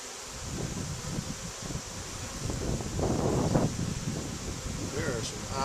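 Honey bees buzzing around an open beehive during an inspection, a continuous close hum mixed with wind noise and rustling, with a voice talking over it.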